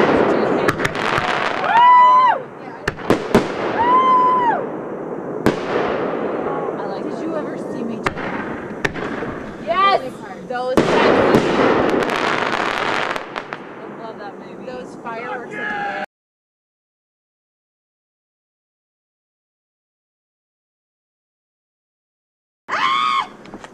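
A fireworks display sets off a rapid series of loud bursts and whistling rockets while voices chatter nearby, then everything drops to near silence before one last volley of bangs.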